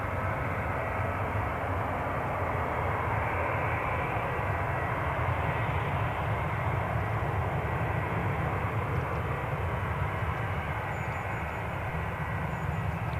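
British Airways airliner at Newcastle International Airport, a continuous broad roar of jet engines rumbling steadily and fairly loud without letting up, no talking.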